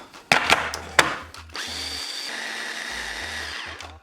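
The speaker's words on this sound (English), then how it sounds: "put it in my food processor, blend everything up" A food processor grinds ingredients for vegan energy balls, starting with a few short pulses and then settling into a continuous whirring motor run of a couple of seconds.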